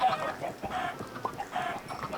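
A chicken in a video game clucks in a few short, close bursts over a quiet background.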